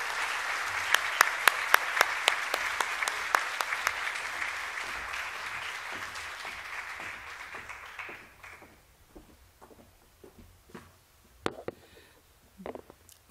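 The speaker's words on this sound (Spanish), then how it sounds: "aplausos para Ruth Shadi" Audience applause for archaeologist Ruth Shady at a national library event, sustained crowd clapping with loud close claps punctuating it, fading after about eight seconds into scattered last claps and faint voices.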